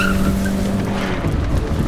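A car's tires squeal as it speeds hard around a turn with the engine floored, a sustained, loud screech over steady engine roar.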